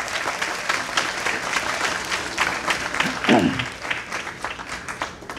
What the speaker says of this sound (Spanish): Creo que todos merecemos un aplauso,